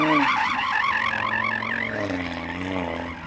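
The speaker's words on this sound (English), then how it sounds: "Go on then, Audi, warm up your tyres and try to slide if you can." An Audi RS3 sliding to warm its tyres, loud wavering tyre squeal and skidding up close, rising and falling over the engine note throughout.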